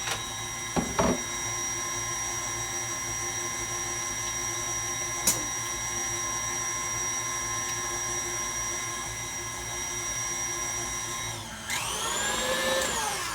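An electric hand mixer whirs steadily through peach cobbler pound cake batter, with a continuous close motor whine, a few brief knocks against the bowl, and a shift in pitch near the end as it slows.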